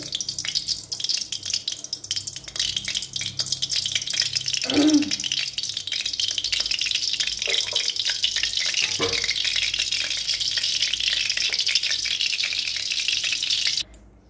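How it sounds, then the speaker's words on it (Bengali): Whole garam masala and a bay leaf hit hot oil in a kadai, giving a loud, continuous close sizzle with a few small clinks and rattles before it cuts off abruptly. "তেলটা গরম হয়ে গেছে, এখানে গোটা গরম মশলা ফোড়ন দিচ্ছি, একটা তেজপাতা"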